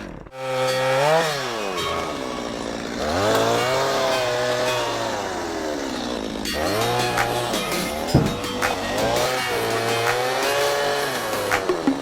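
An off-road tractor loaded with wood drives down a steep hill with its front wheel lifting, its engine droning loudly and steadily throughout while the revs rise and fall in long sweeps, with a few knocks near the end.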